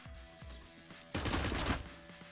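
SMG gunfire in the video game Cyber Knights: Flashpoint, a short quiet lead-in of soft clicks followed by a sudden dense burst of rapid shots lasting about half a second, then a fading tail.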